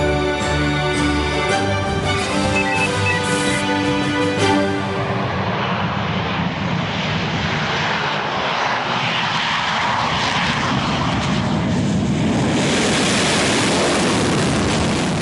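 Sukhoi fighter jet of the Indian Air Force roaring overhead, a loud, continuous engine rumble that swells into a broad rushing roar as it passes and fades, with no talk.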